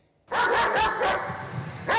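A trained police dog with an anti-terrorism unit at Athens airport barks loudly and close, several sharp barks in quick succession with a short pause, then another burst; no talk.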